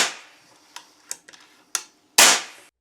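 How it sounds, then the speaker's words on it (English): A single loud sharp shot from an Epic TWO airgun rifle, its valve set to 3mm, bursts out near the end, preceded by a few small clicks and taps from handling. "we can test whether everything works. We try to shoot in a safe direction."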